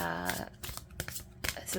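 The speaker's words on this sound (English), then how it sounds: "one more shuffle" An oracle card deck riffled by hand in a short, close burst of papery flutters and soft slaps, with someone speaking over the shuffle.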